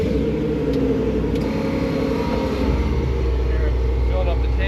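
An off-road vehicle's engine idles to drive its onboard compressor, a loud, steady low rumble with a constant drone and mechanical hum running unbroken throughout, with someone talking briefly over it.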